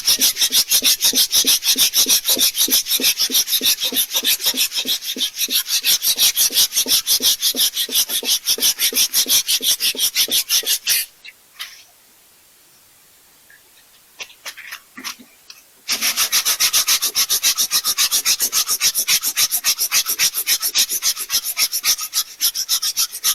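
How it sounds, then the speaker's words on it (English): Primer is sanded off by hand with a fast, rhythmic rasping scrub, close and loud, stopping for about five seconds in the middle before the strokes resume at the same brisk pace. "let's see if we can sand this off and make it look halfway decent"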